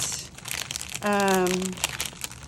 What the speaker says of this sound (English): Sorry for the crinkling noises.